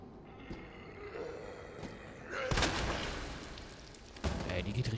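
Matilda handgun shots in Resident Evil 2 Remake, a couple of sharp loud reports over a low rumbling game ambience, one near the middle and another toward the end.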